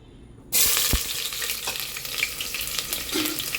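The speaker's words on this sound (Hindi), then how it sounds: "अब हम इसमें 1 आनी छोटी सी प्याज काट के डाल देंगे।" Chopped onion drops into hot oil in a pan and bursts into a loud, abrupt sizzle. The frying crackles on steadily with a few utensil knocks, and no one speaks.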